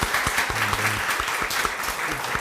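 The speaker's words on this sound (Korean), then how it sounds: "우리 박수합시다." Church congregation at a Sunday service clapping to welcome visitors from a nearby church, brisk close applause with some distinct individual claps.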